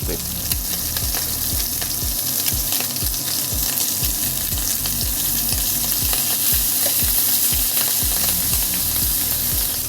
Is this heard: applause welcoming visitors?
no